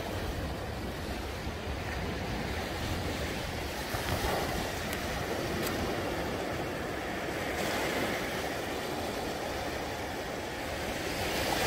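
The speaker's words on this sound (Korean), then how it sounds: "끝없이 밀려오는 파도" Morning sea waves roll continuously onto the shore at Pohang, a steady wash of surf mixed with wind buffeting the microphone, fairly loud and without any voices.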